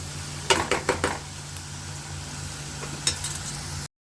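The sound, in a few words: food frying in hot oil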